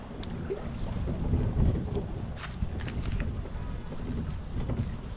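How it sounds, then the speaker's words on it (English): Wind blows across a bayou on a bright day, a steady rushing buffet against the microphone with faint splashes and knocks near a boat. "It is a beautiful but windy day."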